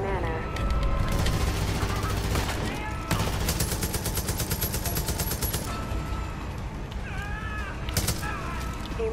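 Gunfire in the Far Cry 5 video game, loud dense bursts of automatic fire with short pauses, along with clanking mechanical effects and voices talking.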